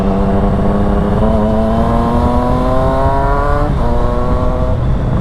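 A Triumph Street Triple 660S motorcycle revs hard on the road, its engine note climbing steadily in pitch for several seconds before dropping sharply as the throttle closes, loud and close.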